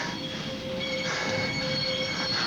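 Metal wheels of a speeding freight train screech continuously in Runaway Train, a loud, sustained high squeal over a dense rumbling roar, with no voices.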